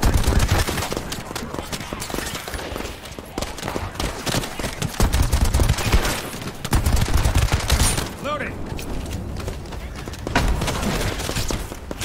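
Gunfire in a firefight in The First Descendant, a dense run of sharp shots and bursts that keeps crackling over the whole stretch, with a voice talking underneath.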